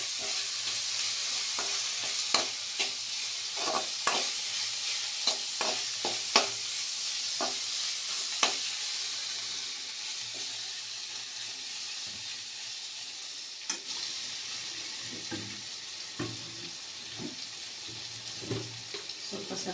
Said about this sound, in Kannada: ಈಗ ಬೆಂಡೆಕಾಯಿನ ಹಾಕ್ತಾ ಇದ್ದಾರೆ